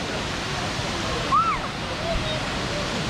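Steady broadband roar of rushing water at the Kravice waterfalls, constant and enveloping, with a brief bird-like chirp or whistle near the middle.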